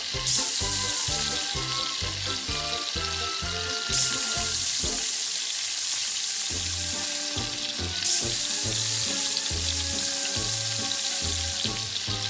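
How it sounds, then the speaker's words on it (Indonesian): Flour-coated shrimp frying in hot oil give a loud, continuous sizzle and crackle, with a rhythmic pulsing bed of background music underneath and no talking. "Waktunya menggoreng."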